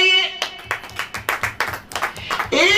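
A church congregation claps together in a steady, quick rhythm of sharp hand claps, fairly close and loud, with a brief swell of voices at the end.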